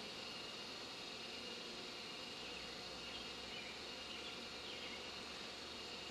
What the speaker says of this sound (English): There's just too many bees still in here.